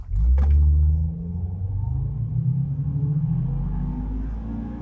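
An old beater car accelerates hard, its deep engine rumble loud and close, with a brief surge at the start settling into a steady droning pull.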